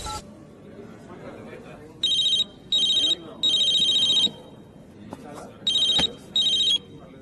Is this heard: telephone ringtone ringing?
yes